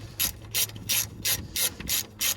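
A ratchet wrench with a 16mm socket tightens rusty skateboard truck bolts, giving seven quick, evenly spaced bursts of crisp clicking, close and fairly quiet, with no talking.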